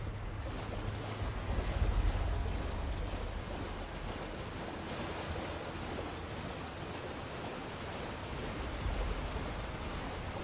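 A waterfall in Elden Ring: Shadow of the Erdtree roars as a continuous broadband rush, dense and steady, swelling slightly early on and staying loud throughout.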